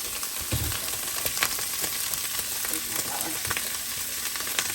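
Dry Lipton onion soup mix toasting in a hot pan for hamburger gravy, a steady low sizzle with faint crackles and occasional scrapes, close and even throughout with no talking.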